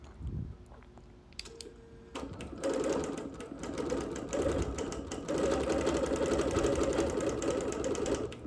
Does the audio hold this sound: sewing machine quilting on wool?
yes